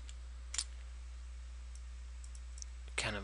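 A few sharp computer mouse clicks during Photoshop editing, one isolated click followed by a quieter stretch and then a quick double click, close and crisp over a low steady electrical hum.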